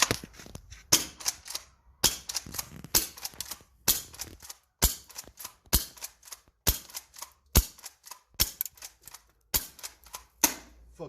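An Umarex H8R airsoft revolver, a small budget gas pistol, fires a string of sharp, snappy shots at close range, roughly one every second, with brief mechanical clicks between them and no voices.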